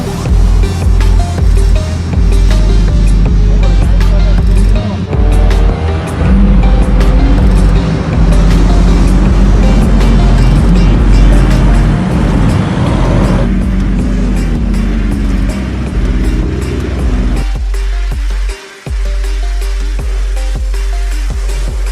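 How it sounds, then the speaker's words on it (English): A DB11 sports car drives through a city at night, its engine roaring loud and close with steady, dense road noise that shifts in pitch as it accelerates and eases off. "And here's the DB11 I'm driving."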